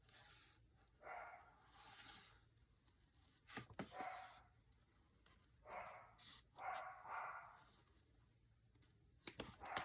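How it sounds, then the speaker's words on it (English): Dog barking indoors in the background, faint, short yaps in scattered bursts with quiet gaps and a few clicks between. "I'm sorry if you can hear my dog barking in the background."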